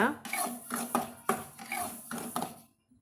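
Rava (semolina) is stirred and dry-roasted in a pan, with a spoon scraping in rhythmic strokes about twice a second, close and fairly quiet, before falling silent.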